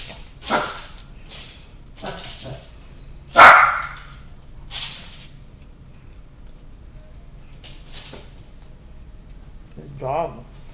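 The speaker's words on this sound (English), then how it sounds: "Dog." A dog gives a few scattered barks, with one sharp louder bark standing out, amid quiet indoor background noise and occasional talk during a casual Father's Day meal of chicken and Chinese food.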